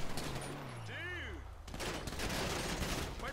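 Rapid gunfire erupts in GTA 5 Online, a dense burst of game shots mixed with other game sounds and a few tonal effects, loud and continuous through the clip.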